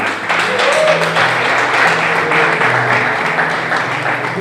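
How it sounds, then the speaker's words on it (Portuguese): A crowd applauds steadily throughout while voices carry on underneath, at a meeting between a civil society cultural working group and mayoral candidates. "Uma salva de palmas aqui,"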